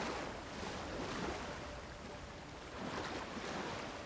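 A waterfall in the video game Avowed rushes steadily as a broad, continuous wash of water noise with a slight swell, heard alone with no voice over it.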